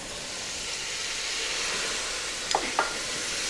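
Shrimp sizzles steadily in a pot as dry sherry goes in, a close, continuous hiss with two brief clinks of a spoon or utensil near the end.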